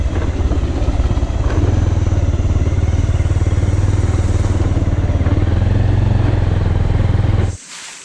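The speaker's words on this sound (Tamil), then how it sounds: "இப்போ நாங்கள் போகிற பைக் சத்தம் தான் எங்களுக்கு கேட்குது" A motorcycle engine drones loudly and steadily while riding, then cuts off abruptly near the end.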